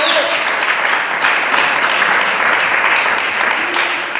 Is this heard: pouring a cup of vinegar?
no